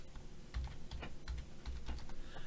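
Someone types on a computer keyboard to enter a parcel description in mailroom booking software. Quick, irregular key taps and a few heavier thumps are heard up close with no talk.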